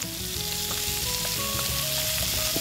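Sausage pieces with abalone and egg sizzle and crackle steadily in a hot pan as they are stir-fried, a close, continuous frying hiss with no talk.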